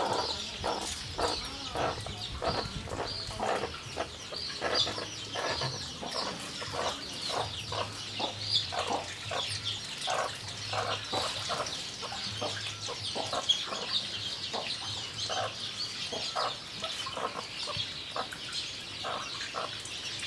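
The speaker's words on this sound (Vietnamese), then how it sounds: "Có con gà mái đang ấp." A brooding hen sitting on eggs clucks in a steady run of short, close clucks for about twenty seconds, with a hiss of background noise and no talk.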